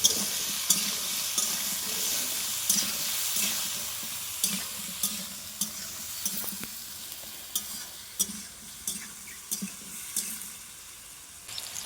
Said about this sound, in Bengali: এবার সবজিটাকে ভালো করে কষিয়ে নেব।